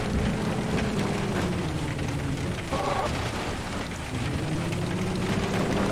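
Heavy rain pours steadily during a storm, a dense continuous hiss with a low engine rumble from a storm-chasing truck underneath, near and loud throughout.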